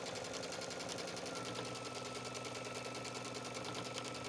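Sewing machine stitching trim onto the edge of a towel, a fast, even mechanical chatter running continuously and fairly faint, with no voices.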